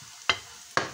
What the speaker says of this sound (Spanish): y echamos el ajo. Venga, y ahí lo vamos a dorar un poco